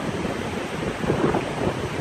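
Strong wind from Hurricane Matthew roars in a loud, broad, continuous rush with gusting swells and low rumble, and no voices are heard.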